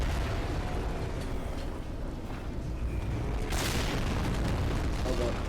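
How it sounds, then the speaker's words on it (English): Explosions in the Titanfall 2 video game roar and boom in a dense, continuous wall of rumbling blasts, with a sharp burst partway through and faint voices underneath. "Oh god, everything's exploding."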